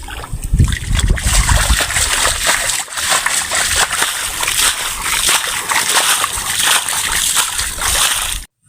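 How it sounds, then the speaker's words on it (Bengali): Water being bailed out of a ditch while fishing in the Sundarbans, loud repeated splashing and sloshing close by, with faint voices underneath. "সেঁচা শুরু করে দিয়েছে"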